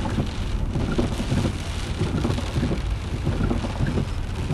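Steady, loud rain pours down continuously outdoors by a huge old factory warehouse in Lawrence, Massachusetts, with a dense hiss and low rumble and no voices.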